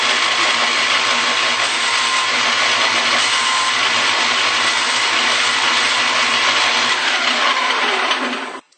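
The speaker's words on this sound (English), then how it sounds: "I'm going to turn on the belt sander and just kiss this enough to clean this" A belt sander runs loud and continuous for nearly nine seconds while a bone banjo nut is lightly touched to the belt to clean a flat spot, then the motor shuts off abruptly at the end.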